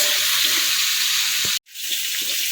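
Steady, close sizzling of pumpkin frying in a pan, broken by a brief silent gap before the hiss resumes.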